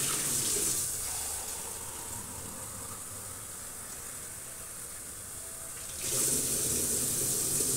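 Tap water runs into a measuring cup in a home kitchen while pasta is being prepared, a strong splashing gush that drops to a steadier, quieter flow as the cup fills, then swells again near the end.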